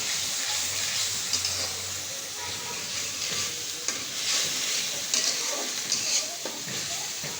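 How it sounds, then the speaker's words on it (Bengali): Spice paste for a fish curry with potato and Malabar spinach is stirred and sizzles in a hot pan, a steady close frying hiss with scraping stirs and no talk. "এই মশলাটা কষাতে থাকবো।"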